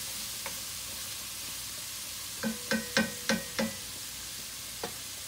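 Vegetables with corn cooking and sweating in a pan give a faint, steady low sizzle, broken by a short run of five quick clinks or scrapes in the middle and two lone taps.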